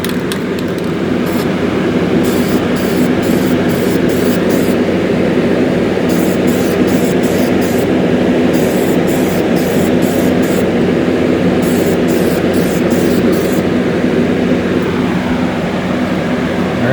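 An airbrush or spray can lays clear coat onto a 1:64 diecast Camaro ZL1 with a steady, loud hissing rush, broken into short pulsed bursts of spray throughout.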